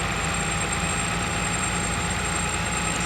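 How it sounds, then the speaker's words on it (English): A truck engine rumbles steadily with a low, constant idling drone and faint vibration, even in level throughout with no talking, accompanied by a thin, steady high-pitched whine. "And then you heard some engine sounds."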